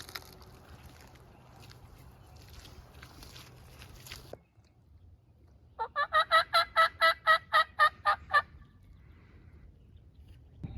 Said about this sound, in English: We had turkeys all around us